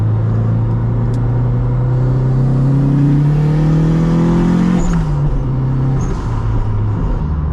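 A Toyota MR2 tuned to about 400 hp with a TD06 20G turbo accelerates hard from the driver's seat. The loud engine drone climbs steadily in pitch, drops briefly at a gear change, then pulls again.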